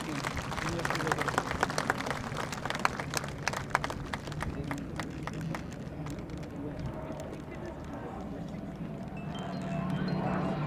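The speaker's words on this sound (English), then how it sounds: "Can we have a huge round of applause please for the HTT-40?" Open-air crowd applause at the Aero India 2019 airshow during an HTT-40 trainer aircraft's aerobatic display, scattered clapping from spectators that fades after a few seconds, with an announcer's voice over it.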